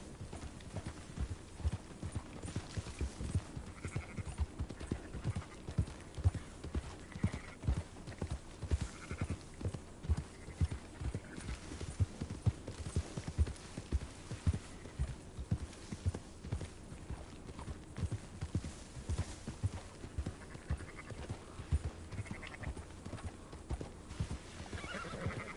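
Horses clip-clop at a walking pace in Red Dead Redemption 2 while herding sheep. The hoofbeats are steady and continuous, a horse whinnies now and then, and faint sheep bleats sit in the background.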